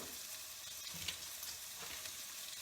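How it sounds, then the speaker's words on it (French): Small pieces of pepper fry in a saucepan for poulet basquaise, a soft, steady crackling sizzle heard close with no voices. "Vous pouvez entendre que ça crépite dans ma casserole."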